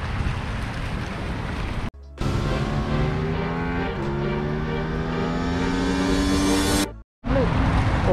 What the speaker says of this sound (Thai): เสียงที่อยู่ในคลิปทีเซอร์นั่นน่ะมันจะเป็นเสียงเครื่องยนต์2 3หรือ4สูบกันแน่ครับ